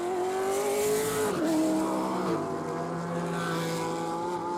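Onboard a Trans Am race car at Portland International Raceway, its engine note rising, then dropping sharply with each gear change before climbing again, loud and continuous.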